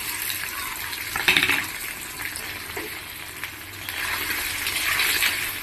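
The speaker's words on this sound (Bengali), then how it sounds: "এখন এই পনিরগুলো ঢেলে দেব।" Paneer pieces go into hot oil in a kadai with a sudden bright sizzle that flares and then eases before swelling loudly again toward the end, with no voices.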